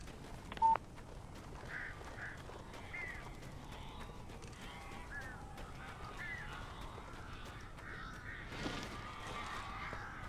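In the Alan Wake video game, crows caw faintly over a low, quiet ambient background, with a short sharp tone near the start.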